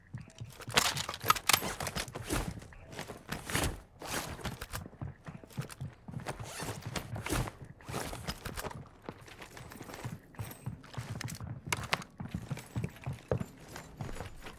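Footsteps of someone running in Warzone 2 DMZ, a steady run of quick thuds and scuffs, fairly close and moderately loud, continuing throughout with faint background noise.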